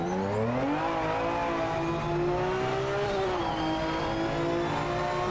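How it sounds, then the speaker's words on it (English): A race car engine in the video game Project Motor Racing revs loudly and continuously, its high whining pitch rising and falling like an F1 car, with no talking. "This car does not sound like a V12. It sounds like an F1 car."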